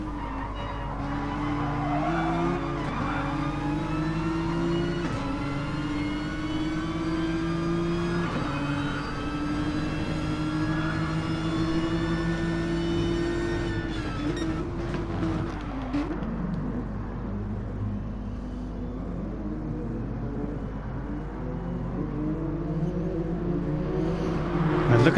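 In a racing video game, race cars run close together at Fuji, a continuous engine drone rising in pitch through upshifts, with tire squeal and no voices.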